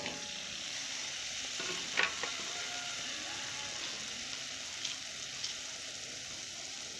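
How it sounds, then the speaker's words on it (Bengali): Okra frying in a pan, giving off a steady oily sizzle and hiss with a few brief scraping stirs, close and moderately loud, with no voices. "প্রথমে ঢেঁড়সগুলো ভেজে নেব"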